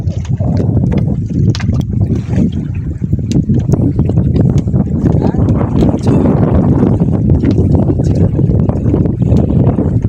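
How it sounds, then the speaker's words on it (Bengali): River waves slap against a boat on a Sundarbans river while rising wind buffets the microphone, a loud continuous churn of water and gusts with faint voices under it. "পরপর নদীতে ঢেউ বাড়ছে তার কারণ বাতাস উঠছে আস্তে আস্তে"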